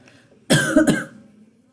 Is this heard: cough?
yes